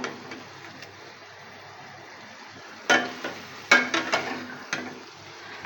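A spoon stirs and scrapes cooked potol (pointed gourd) mustard paturi out of a pan, making a few clattering scrapes over a low, steady background hiss; nobody talks.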